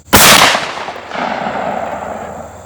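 A single loud shotgun blast fired outdoors to test a newly mounted DiscoveryOpt LHD scope, with a sharp crack and a long echoing tail that fades across the open range.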